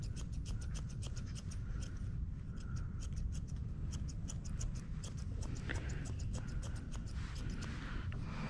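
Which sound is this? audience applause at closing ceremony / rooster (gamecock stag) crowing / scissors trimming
scissors trimming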